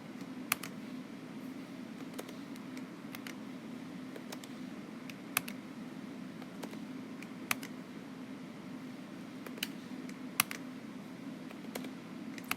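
Clicks from a computer keyboard being typed on: scattered, irregular keystrokes with occasional sharper taps, close and fairly quiet over a steady low hum, with no voices.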